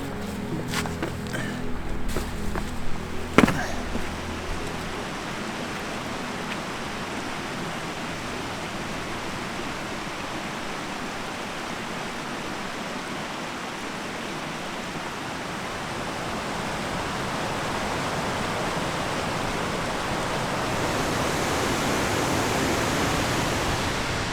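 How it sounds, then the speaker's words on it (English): A few knocks and clicks at the start give way to a steady, loud rush of rain in Alaska that swells slightly toward the end. "Rain!"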